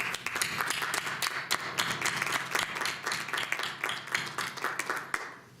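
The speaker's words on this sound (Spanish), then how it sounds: "Le damos un aplauso de despedida." Steady farewell applause from a lecture audience closing a talk on jewellery brands versus artisan jewellers, with many hands clapping densely and evenly throughout and no voices over it.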